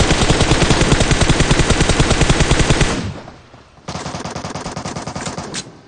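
Rapid automatic gunfire from an M416 rifle in the PUBG Mobile video game, a loud sustained burst that breaks off briefly and then resumes, with no talking.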